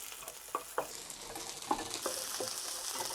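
Garlic and chopped onion sizzle in about two tablespoons of hot frying oil, a steady close crackle broken by a few sharp clinks and scrapes of stirring, with no talking.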